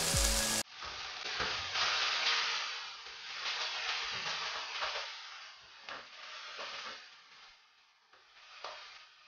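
Ground turmeric and Kashmiri red chili powder fry in a hot pan for a dhaba-style paneer masala gravy, a steady close sizzle broken by scrapes and knocks of the spoon stirring, with no voices.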